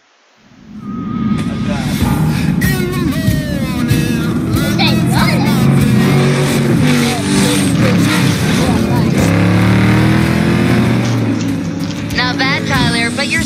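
In Need for Speed Payback, a car engine starts and holds a loud, steady, buzzing drone with rising and falling revs for the whole stretch, while voices talk over it.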